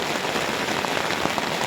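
Steady rain falls on a campsite at Murray Bridge, Australia, as a dense, even hiss that stays loud and constant throughout with no voices.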